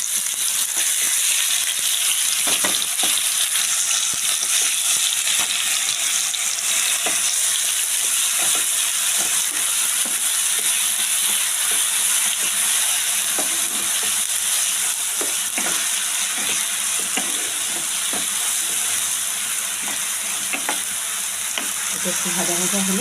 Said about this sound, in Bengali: এবার দিয়ে দিচ্ছি পেঁয়াজের পেস্ট,